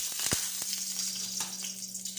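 Leaves sizzle and crackle in hot oil in a pan for fried noodles, a steady close hiss broken by a few sharp pops, with no talking.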